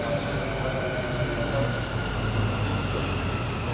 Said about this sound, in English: So this metro just really exceeded my expectation. It's like very nice, modern, brand new.